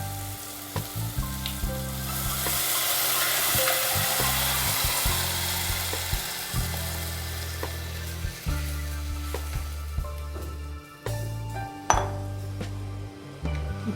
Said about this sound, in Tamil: இப்போ நம்ம கரைச்சி வச்ச இந்த மசாலாவை இதில் ஊற்றிடணுமா.